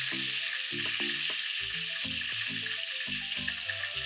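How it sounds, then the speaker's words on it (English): Sliced beef frying in oil gives off a steady, bright sizzle and crackle throughout, with no talk over it. "we'll just continue frying on that side until that side is done"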